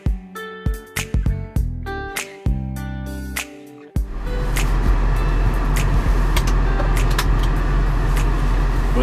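A John Deere tractor pulls away after a few sharp clicks and knocks, its engine settling into a steady, loud, broadband rumble that runs unbroken for several seconds.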